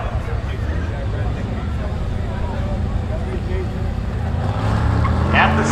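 A 1982 Chevy Camaro runs at a speedway drag event, its engine a steady rumbling roar that swells louder toward the end, with a commentator's voice talking over it.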